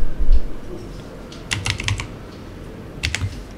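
Close, crisp laptop keyboard typing comes in short bursts of quick clicks separated by brief pauses over a faint background hiss.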